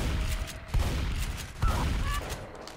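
Gunfire in the zombie shooter Left 4 Dead 2, a few sharp bursts of shots over a busy, noisy game background, fairly close and loud.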